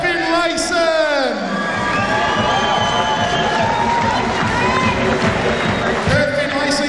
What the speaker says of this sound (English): And let's give a round of applause for Kurt Finlayson.